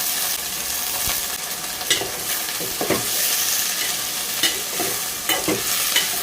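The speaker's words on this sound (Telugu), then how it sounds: "ఇలా తాలింపు పెట్టుకొని మీడియం ఫ్లేమ్లో పెట్టుకొని బాగా వేయించుకుంటూ ఉంటే" Cluster bean pieces sizzle in an oil tempering over a medium flame while a spoon stirs them, giving a steady frying hiss broken by periodic scraping strokes against the pan, close and with no talking.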